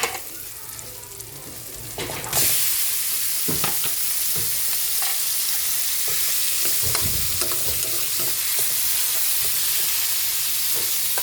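Chicken pieces drop into a hot pan and burst into a loud, steady sizzle, with scraping and clattering from stirring the meat as it fries.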